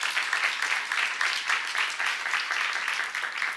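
Congregation applauding in a Korean church service, a dense continuous wash of many hands clapping at steady volume throughout, with no voices standing out.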